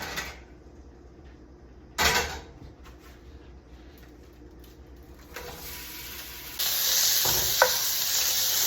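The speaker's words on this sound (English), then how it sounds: "Now we're gonna brown our hot Italian sausage for a few minutes at medium heat." Hot Italian sausage browns in extra virgin olive oil over medium heat, giving a soft, steady sizzle with occasional stirring clatter and a brighter, louder hiss near the end.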